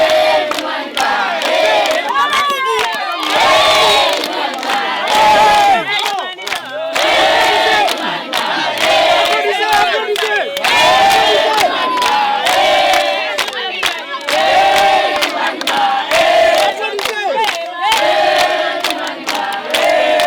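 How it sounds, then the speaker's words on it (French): An audience at a televised model competition show applauds and cheers in a loud, continuous, dense wave of clapping and whooping that holds steady throughout. "On applaudit."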